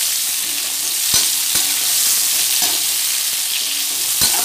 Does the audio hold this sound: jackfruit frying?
yes